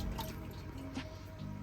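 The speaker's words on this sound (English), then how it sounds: "that is now flowing and that is now sucking up water" Water runs steadily through an aquarium siphon hose during a tank cleaning, a soft close trickle and gurgle with a few faint drips over a low background hum.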